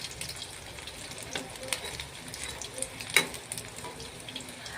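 Pumpkin flower fritters frying in a pan of hot oil, a soft steady sizzle with occasional faint clinks and bubbling pops, fairly quiet and without speech.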